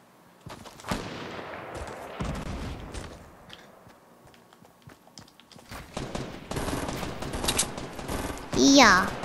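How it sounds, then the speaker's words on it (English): Sniper rifle gunfire in Fortnite, heard as sharp cracks scattered through busy game combat with other shots and effects, while a player talks over much of it and a loud burst comes near the end. "And someone's sniping me."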